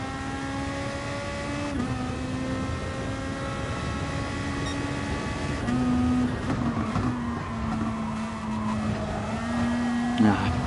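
A race car laps a track in GT Sport time trial, the engine droning steadily with pitch rising and falling through gear changes and corners, while a voice talks over it.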